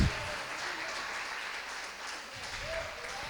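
A church congregation applauds during a midweek service, a steady, fairly faint spread of clapping throughout, with a few voices mixed in.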